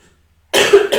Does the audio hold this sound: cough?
yes